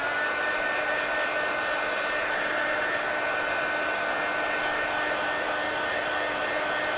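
A hair dryer blows steadily on wet paint in a square sketchbook journal, a constant close whooshing hiss running unbroken the whole time with no talking.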